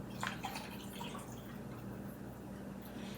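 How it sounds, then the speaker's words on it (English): A can of water is poured into a casserole dish holding cream of mushroom and cream of chicken soup, with a close, sustained gurgling splash and a few drips at the start. "And then we're going to add 1 can of water."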